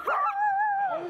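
A woman imitates a dog bark at an amusement park, giving one drawn-out, nasal, whining yelp that rises and falls like a dog's whimpering bark, close and loud.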